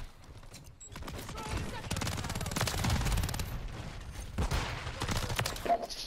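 Rapid gunfire bursts in a Call of Duty Modern Warfare III match, loud and dense volleys with short gaps, the player being shot.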